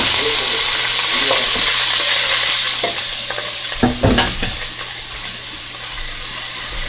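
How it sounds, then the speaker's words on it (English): Ground beef frying in a pot on a stovetop, a steady close sizzle with scraping stirs and a few clanks of a utensil against the pot near the middle, no talking. "I'm going to add my ground beef back to my pot."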